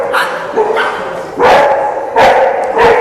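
A dog barks and yips during leash training, loud and close, in several sharp, drawn-out bursts spaced about a second apart.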